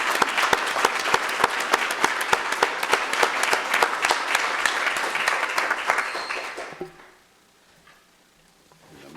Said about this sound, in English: I think the students need a big round of applause.